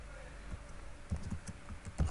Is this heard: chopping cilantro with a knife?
no